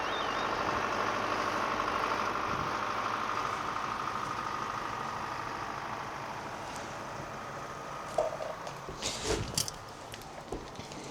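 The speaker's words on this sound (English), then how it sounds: "that sound means one thing, the tractor's coming." A steady, rumbling engine drones continuously at moderate distance, with faint clatter and a few sharper knocks toward the end.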